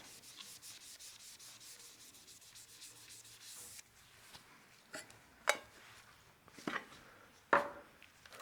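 A cloth rubs wax onto a lathe-turned wooden piece in fast, steady strokes for several seconds, followed by a few sharp knocks and clicks, close and quiet with no talking.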